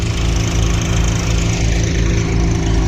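A tractor in a farm field runs with a loud, steady engine drone and a rough, throbbing low rumble, heard close and continuous without any talk.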